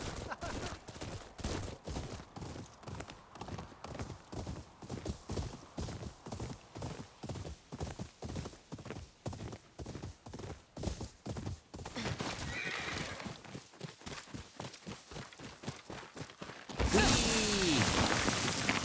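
Horse hooves clip-clop in a steady, rapid rhythm in the samurai video game Ghost of Yotei, with whinnies and a brief rush of wind or surf near the end.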